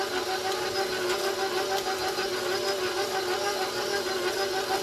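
An electric mixer whirs steadily in buttermilk pound cake batter, a moderate continuous motor drone with a slight rattling texture, no talk over it.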